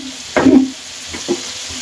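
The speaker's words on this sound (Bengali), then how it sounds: "মাছগুলো ভাজা হয়ে গেছে, এখন সব তুলে নেব।" River coral fish frying in hot oil in a pan, with a short burst of loud sizzling and stirring, then a fainter second sizzle as the pieces are moved.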